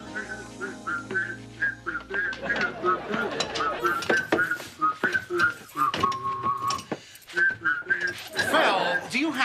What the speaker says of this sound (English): do you have to whistle like that while you work?